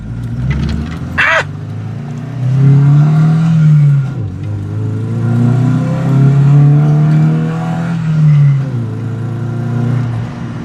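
A Volvo 240 car engine revs hard and pulls through rising gears, the loud drone climbing and dropping repeatedly as it accelerates, heard from inside close up.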